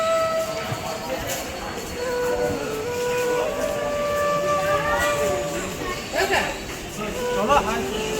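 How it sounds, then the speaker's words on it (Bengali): Busy railway platform at Mecheda station with a local train passing, long whistle and horn tones and rolling rail noise, under a crowd murmur. "ওখান থেকে একটা হাওড়া লোকাল যাচ্ছে, দেখো একটা লোকাল যাচ্ছে।"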